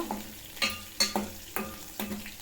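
Crushed garlic and green chillies frying in a pan while a spoon stirs them, a soft sizzle under five or six sharp rhythmic scrapes and taps, close by and fairly quiet, with no voices.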